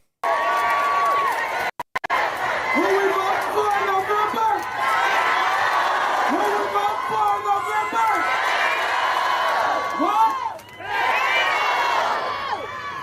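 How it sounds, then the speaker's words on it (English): A rally crowd for Beto O'Rourke cheers and whoops loudly, with high shouts and bursts of screaming over a steady roar, swelling and dipping across the stretch before surging again near the end. "The crowd goes wild for Beto O'Rourke."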